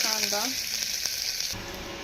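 Finely chopped onion frying in a pan with curry leaves for a village-style soybean amti gives off a steady, dense sizzle, close and even, with a short voice heard at the start.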